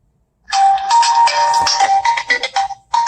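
A mobile phone ringtone goes off in a quiet podcast studio, a loud, close electronic melody of short bright tones starting abruptly after silence and repeating in phrases for a few seconds.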